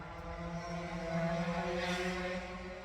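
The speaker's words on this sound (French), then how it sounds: "Allez, c'est la moto passée." A motorcycle passing by outside at night, heard as a steady engine hum with a tonal drone that swells slightly mid-clip and then fades, fairly distant and moderately quiet.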